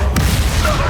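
Crucio curse cast in Hogwarts Legacy, a loud booming burst with a sharp crack at the start and a sustained heavy low rumble that carries on through.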